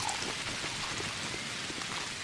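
Steady pouring rain in the video game Pathologic HD, a dense even hiss of drops falling on surfaces, moderately quiet and constant with no voices over it.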